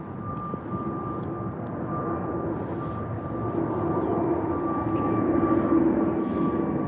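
A British Airways airplane departs Heathrow with a steady roaring jet rumble and a high whine, swelling gradually louder as it climbs away, heard from outdoors without talk.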